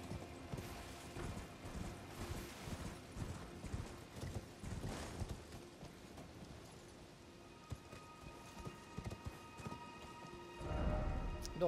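Rhythmic hoof clip-clops from a horse in the video game Elden Ring, steady and moderately loud over a busy background, with a brief louder rumble near the end.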